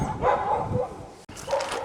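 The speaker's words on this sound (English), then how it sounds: "explain to my dog that everything doesn't have to be barked at" A dog barks in a backyard garden setting, a few rough, mid-distance woofs and yips in two bursts separated by a brief gap, no speech.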